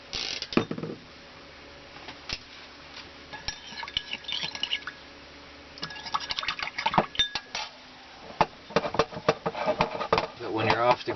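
Dishes are washed by hand with a little water and a drop of soap at an off-grid camper, with clinking utensils, scraping and small pours in irregular bursts, close up, with intermittent background speech.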